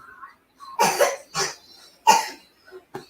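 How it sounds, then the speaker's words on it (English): A child coughs in three or four short bursts spread across a few seconds, close to the microphone, with quiet pauses between them. "I'll see if he starts coughing again."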